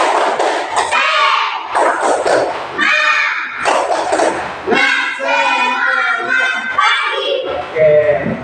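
Classroom group of children doing a rhythmic spirit clap together, with loud patterned claps and thumps mixed with excited shouting voices, close and energetic throughout.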